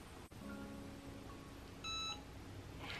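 A heat press gives a short electronic beep, clear against faint room hiss, after a quiet stretch with a soft tone.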